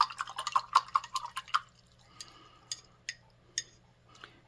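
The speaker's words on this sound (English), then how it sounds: "I'm going to go over here just to my water and clean my brush" A watercolor paintbrush is rinsed in a jar of water, making quiet clinks and small splashy taps, at first in a quick cluster and then in sparser, fainter ticks.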